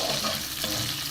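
Butter goes into a hot pan with fried dal ingredients, giving a short burst of steady, close sizzling with no speech.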